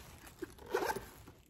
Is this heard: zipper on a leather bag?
yes